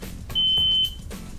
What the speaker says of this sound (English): most smoke alarms require you to push and hold a test button until it sounds